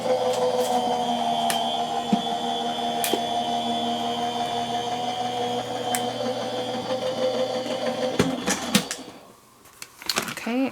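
A die cutting machine feeds card stock through its rollers with a continuous mechanical whir and hum, close and steady, broken near the end by a few clicks and clunks as it stops.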